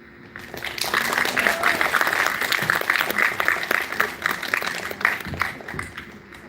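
An audience applauds students at the Eye Level Award Ceremony 2025 after the grade 7 top scores are announced. Dense, steady clapping swells in after a brief lull and carries strongly to the end.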